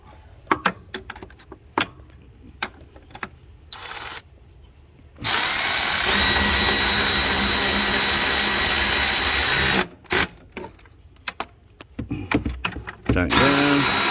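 A power tool drives bolts while fitting a new alternator on a 2002 Ford Expedition with the 5.4 liter engine: clicks and taps first, then a loud sustained whir for about five seconds, a brief pause, and another short burst.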